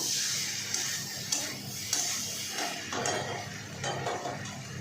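A spoon stirs and scrapes spiced food in a cooking pan, giving a series of light metallic clinks and scrapes at an uneven pace, close and fairly quiet, with no talk.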